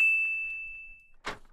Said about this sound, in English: when the bell goes